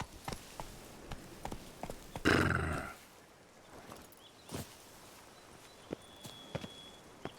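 Roach, a horse in The Witcher 3: Blood and Wine, clops along with sparse, irregular hoofbeats, fairly faint, broken by one brief louder burst of noise partway through.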